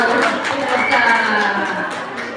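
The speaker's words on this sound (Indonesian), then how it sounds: "Tepuk tangan untuk kita semua." A room of mothers at a preschool parenting session clap their hands together, a steady, dense patter of applause that carries through the whole moment with some voices beneath it.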